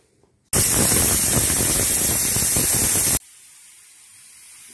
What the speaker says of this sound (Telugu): ఒక విజిల్ వచ్చేసిందండి.